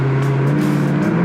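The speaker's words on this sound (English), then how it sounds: "I'm just going to do a quick red line in first to second gear" A 2004 Chevrolet Corvette engine revs hard toward redline in first gear, a loud, close, steady roar climbing in pitch over a little more than a second.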